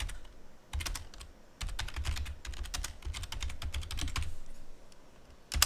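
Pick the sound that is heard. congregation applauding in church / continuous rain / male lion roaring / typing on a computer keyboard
typing on a computer keyboard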